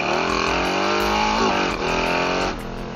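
A 2024+ Harley-Davidson touring motorcycle engine runs loud and close, revving under load while traction control cuts the ignition, leaving stuttering dips in the rhythm.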